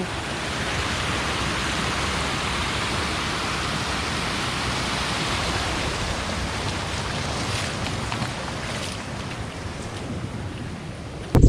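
Water rushes through a channel at Mukkadal Dam in Kanyakumari, making a loud, steady, unbroken roar that stays level throughout, with a brief knock at the very end.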